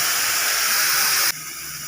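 Water poured into a hot cooking pan of garlic, chilli, turmeric and fennel seeds gives a loud, steady sizzling hiss that cuts off abruptly near the end, leaving a quieter steamy simmer.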